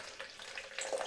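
Cold water runs from a kitchen tap while sourdough baguette dough is being mixed, a soft, steady splashing stream heard close by for about a second with no voices.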